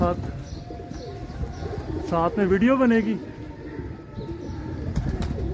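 A pigeon coos close by, a low throaty warble lasting about a second, while someone talks over steady background noise.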